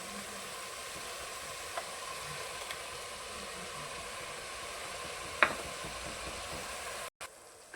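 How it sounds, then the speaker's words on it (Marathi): Pav bhaji masala sautéing with tomato gravy in a pan, heard as a faint, steady hiss and sizzle with a couple of small clinks, one sharper tap near the end. "एकदा आपण परतून घेऊया आणि याच्यामध्ये टोमॅटोची ग्रेव्ही टाकून घेऊया"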